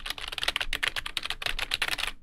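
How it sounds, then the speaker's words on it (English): Rapid computer keyboard typing, a dense run of crisp plastic key clicks with uneven rhythm, close and fairly loud, with no talking over it. "Keyboard clicks sound like this."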